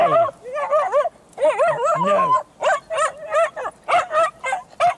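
A dog barks repeatedly in short, yappy bursts, close and loud, with a person briefly speaking among the barks.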